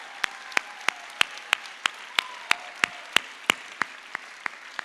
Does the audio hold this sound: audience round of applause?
yes